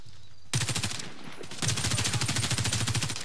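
Automatic rifle fire in the online shooter Warface, team deathmatch on the Farm Sunset map: loud rapid bursts of shots, a short burst after a brief silence, then a longer sustained burst.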